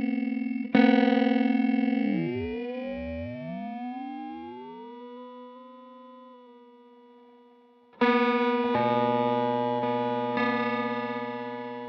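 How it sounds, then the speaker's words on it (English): Single sustained synth note run through a ring modulator, its metallic sidebands sweeping and gliding against the steady pitch before settling, then a fresh loud attack at about eight seconds brings a dense, buzzy, consonant harmonic stack. "turn the frequency shift knob on your ring modulator to a place where the noise it's making will actually be consonant with that one single note"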